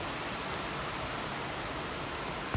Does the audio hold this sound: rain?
yes